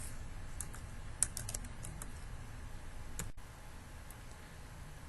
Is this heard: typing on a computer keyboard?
yes